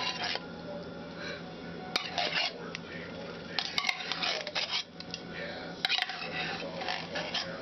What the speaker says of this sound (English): I always like to stir it up first and make it a little creamy in the can first